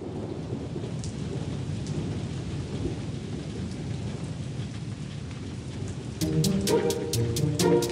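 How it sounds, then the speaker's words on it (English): Steady heavy rain hisses with low thunder rumbling beneath, continuous and close, before a bright musical passage begins near the end. "It's raining, it's raining, and it's never ending."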